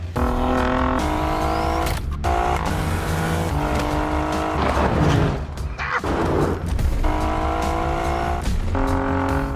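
An Alfa Romeo Giulia Quadrifoglio's turbocharged engine revs hard through rising gears, rpm climbing and dropping with sharp shifts, loud and close, with tire noise in between.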